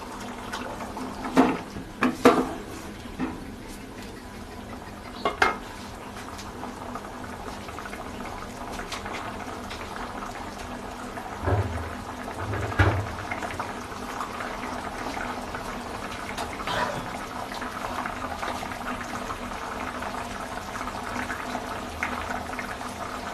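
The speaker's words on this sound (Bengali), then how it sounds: "এবার আমি চালটা কিছুক্ষণ সিদ্ধ হতে দেব।" Gobindobhog rice simmering in a pot for a Bengali borboti and potato dish, a steady low bubbling with a few louder pops and gurgles near the start, alone without talk.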